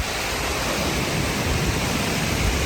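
Indian Ocean surf at Kuta Beach: a broad, steady wash of breaking waves at high tide, loud and continuous with a soft rolling churn and no voices.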